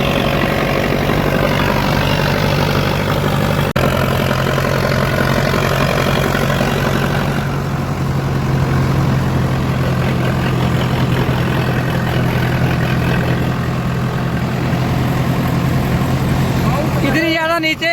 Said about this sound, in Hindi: और फिर अपने ट्रैक्टर कर दिए हैं स्टार्ट और चलते हैं अब आगे